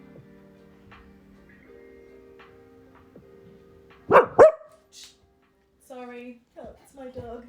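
A pet dog gives two sharp barks close by during a quiet morning yoga session, then a voice speaks briefly afterward.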